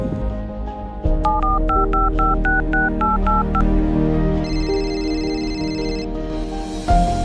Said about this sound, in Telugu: రాజుగానికి ఫోన్ చేద్దాం, ఎక్కడున్నాడో కనుక్కుందాం.